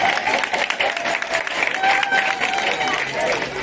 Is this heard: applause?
yes